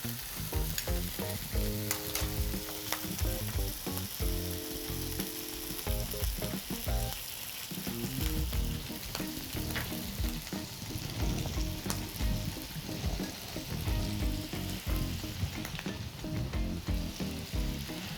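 Onions sizzling steadily with butter and honey in a hot pan, a loud, continuous frying hiss with crackles and occasional stirring clinks, close up and without voices.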